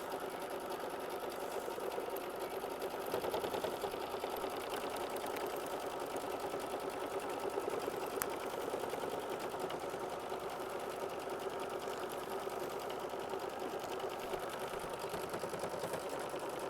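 A sewing machine runs continuously as it stitches down a quilt block, a steady fast mechanical whir with rapid needle ticking that holds level from start to finish, close and moderately loud with no talk.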